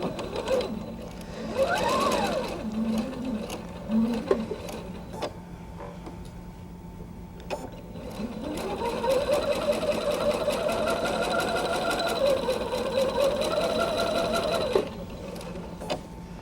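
A sewing machine stitches a quilt block onto an anchor cloth, a steady mechanical whirring run in bursts with short pauses and a longer continuous stretch, close by. Faint talk can be heard in the background.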